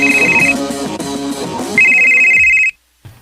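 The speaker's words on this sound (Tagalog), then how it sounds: "Ang akong cellphone." A cellphone rings loudly in a radio drama, a bright repeating electronic ringtone in two long bursts over a low melodic backing, ending abruptly before a short quiet gap.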